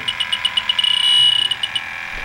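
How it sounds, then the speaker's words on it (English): Electronic alarm of an SRL8 refrigerant leak detector sounding close by, a rapid string of shrill beeps that briefly merge into a steady tone before pulsing again. "So here's the leak detector, which I love."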